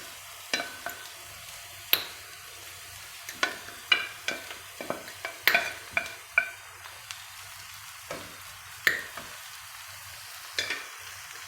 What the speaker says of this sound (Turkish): Patlıcanlarımızı boşaltıyoruz şu şekilde içerisine. Güzelce bunu soteliyoruz yani pişiriyoruz.